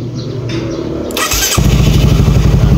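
A motorcycle with no neutral diode fitted cranks briefly, then its engine catches and settles into a loud, close, steady idle.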